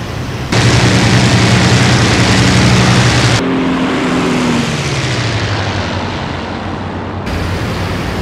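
A damaged World War II fighter aircraft engine in the IL-2 Sturmovik flight simulator roars loudly and continuously, with a sharp shift partway through as its pitch drops and sags unevenly before the droning resumes.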